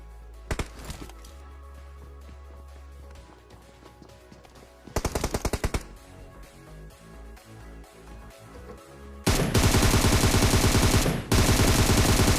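Gunfire in a battle royale video game, with single shots followed by short and then long sustained bursts of automatic fire, loud and close, with no talk.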